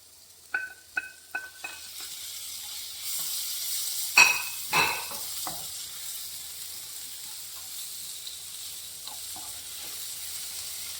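Tomato and squid sizzle in a hot pan for a Kerala-style roasted squid dish, opening with a few sharp clattering stirs, then a steady hissing fry with a couple more scrapes, close and unaccompanied by speech.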